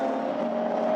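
GT4 race cars at the Nürburgring in 2014 stream across the start-finish line, a dense, steady roar of several engines blending into one loud, continuous wash with no voices over it.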